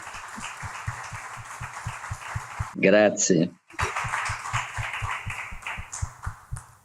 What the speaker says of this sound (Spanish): Un aplauso para nuestros dos presentadores.